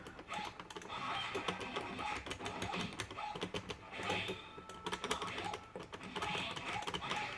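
Clicky arcade buttons tapped one-handed on a Pandora's Box 6 wireless console, a steady flurry of light, fast plastic clicks at close range with no talking.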